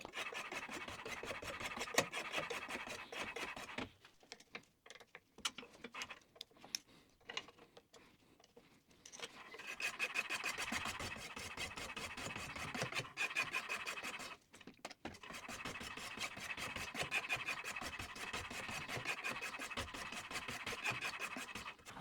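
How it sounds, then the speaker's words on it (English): A kid's kitchen knife has its edge honed with repeated rasping, scratchy strokes, close and moderately quiet, arriving in long steady runs separated by brief pauses. "the last task is just to go through each of the knives, hone the edges a bit"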